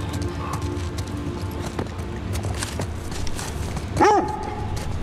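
A dog in The Last of Us Part II gives a single short whining bark near the end. Before it, soft footsteps and steady game ambience carry on without talk.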